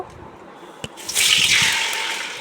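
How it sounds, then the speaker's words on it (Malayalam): Ghee poured into a hot uruli while cooking ada pradhaman for Onam, a short liquid pour that starts after a faint tap and swells into a steady, close sizzling hiss, with no talking. "അതിനായിട്ട് ഉരുളി നന്നായിട്ട് ചൂടായപ്പോഴേക്കും അതിലേക്ക് 2 ടേബിൾ സ്പൂൺ നെയ്യ് ഒഴിച്ചു"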